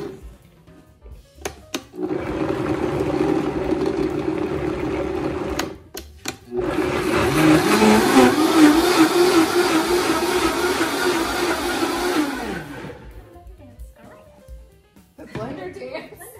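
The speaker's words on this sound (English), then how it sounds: "put them straight in my Vitamix blender. Really a great blender. It really is. And puree them" A loud Vitamix blender motor whirs in two long bursts separated by a brief pause, its pitch climbing as strawberries break down into puree, then winding to a stop.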